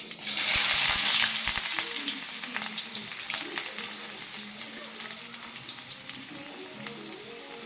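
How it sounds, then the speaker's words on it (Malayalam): Mustard seeds crackling and popping in hot oil in a pan while cooking an Idukki-style bone and tapioca dish, a loud sizzle that settles into a steady frying hiss with scattered pops. "അപ്പോൾ നമ്മളെ കടുക് ചടവറ ചടവറയെന്ന് പൊട്ടിക്കൊണ്ടിരിക്കുകയാണ്"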